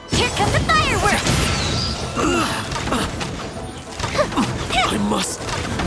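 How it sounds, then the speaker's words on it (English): Fireworks bursting during a Genshin Impact quest with the character Yoimiya, a busy run of crackling, smashing pops and swishes close up, mixed with in-game voice lines and effects. "Here come the fireworks!"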